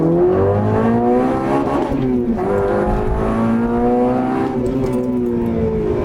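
Honda Civic Type R engine revs hard and loud, its pitch climbing in steady sweeps with a brief dip around a gear change, close and continuous throughout.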